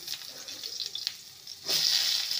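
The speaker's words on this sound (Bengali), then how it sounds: "আলুটাকে ভেজে নেব" Diced potatoes fry in hot oil with a steady hiss that swells into a louder sizzle partway through, near and without talk.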